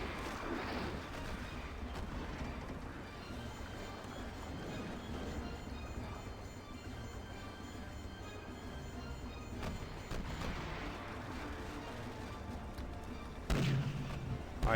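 Ship cannons fire chain shot in the naval game Pirates of the Burning Sea, with low, rumbling booms over a continuous background of sea and engine-like noise, and a sharper thump near the end.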